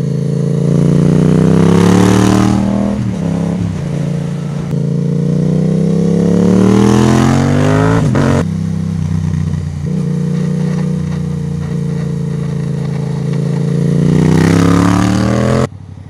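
A Yamaha MT-07 motorcycle engine revs up and down repeatedly while riding, the loud, close exhaust note rising in pitch with each acceleration before easing off between gear changes.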